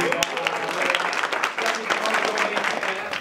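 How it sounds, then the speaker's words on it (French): An audience applauds itself at a sustainable-development gathering, brisk crowd clapping with scattered sharp individual claps and voices murmuring beneath. "Je pense qu'on peut s'applaudir."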